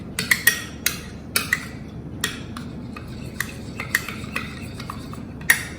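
Metal spoon clinking against a bowl while stirring a curd and mayonnaise dip, with a series of sharp, close taps and scrapes at an uneven pace.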